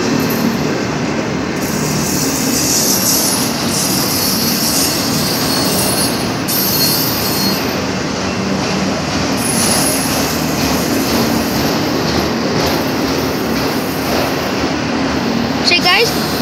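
Canadian Pacific Railway freight train rolling past close by with a continuous loud rumble and high, sustained wheel squeals, steady throughout with no pauses.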